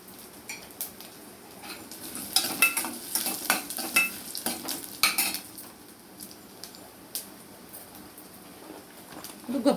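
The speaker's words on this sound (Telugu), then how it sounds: "ఆయిల్లో ఫ్రై చేసుకుంటే బాగుంటాయి." Garlic, ginger, cumin and coconut pieces fry in oil in a pan, with a steady soft sizzle punctuated by repeated utensil clinks and stirring scrapes, fairly close and moderately loud.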